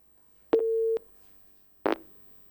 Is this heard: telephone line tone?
yes